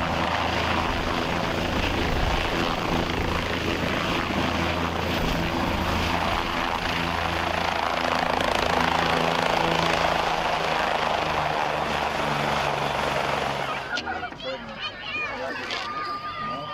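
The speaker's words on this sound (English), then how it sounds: "the Life Flight helicopter behind me bringing Santa Claus in" A Life Flight helicopter's rotor chop and engine roar hold loud and steady, then ease off near the end as crowd noise and voices emerge at a Santa arrival event.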